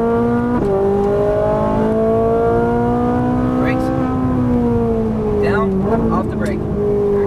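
A Ferrari 458 engine climbs steadily in pitch under throttle, briefly dropping at a gear change, then pulling up again, loud and close with an instructor's voice talking over it.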